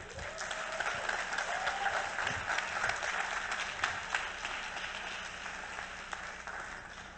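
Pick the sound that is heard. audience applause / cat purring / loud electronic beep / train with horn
audience applause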